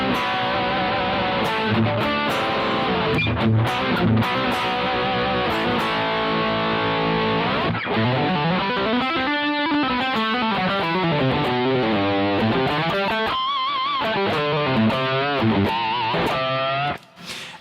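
A bass played in a low register through an Origin Effects Revival Drive pedal, with extra power-stage saturation, growls loud and gritty. Sliding, wavering notes and fast runs keep the driven tone defined before a final note cuts off.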